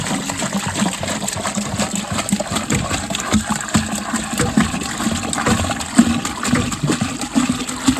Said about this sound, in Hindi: अब हम डालते हैं पानी, देखना कैसे जाता है पानी